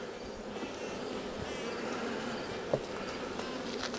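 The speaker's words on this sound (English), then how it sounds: "How about we just start brushing the bees into the hive?" Honeybees buzz around a hive being winterized and brushed down into the boxes, a soft continuous hum of many insects close by, with one brief knock partway through.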